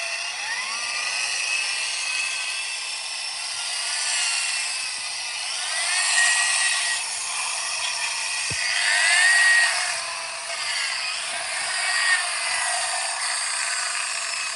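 A high-pitched whining polisher works the edge of a VW Beetle bumper holder, its steady shrill tone rising and falling in pitch as pressure changes, continuous and close.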